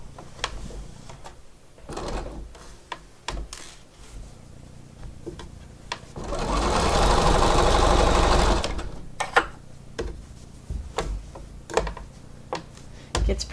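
A sewing machine stitches through thick layers of mermaid tail fabric in one sustained, loud burst of rapid needle chatter, with scattered clicks and handling taps before and after.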